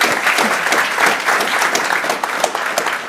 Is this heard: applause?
yes